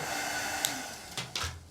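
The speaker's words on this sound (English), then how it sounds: "Could you turn the hairdryer off? It's a bit noisy." A hairdryer running in a studio, a steady faint hissing whir of blowing air, with a couple of brief knocks near the end.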